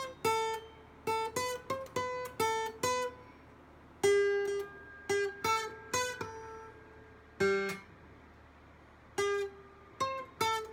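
Acoustic guitar picking out the opening notes of a flamenco-style song, single plucked notes and short strummed phrases with uneven pauses between them, close and clear with no talking.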